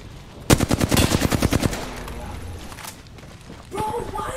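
Rapid automatic gunfire bursts from a video game firefight, a loud rattling volley lasting about a second, followed by quieter game sounds with players talking over the top.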